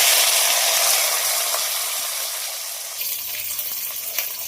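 Dried red chillies, coriander seeds, peppercorns, cumin, onion, ginger, garlic and tomato fry in hot oil in a wok, a bright steady sizzle that slowly fades, with faint scraping and stirring clicks near the end.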